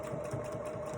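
Sewing machine stitching the pocket entrance of a cross body bag, a faint steady mechanical whir with a soft rhythmic needle patter throughout the short stretch.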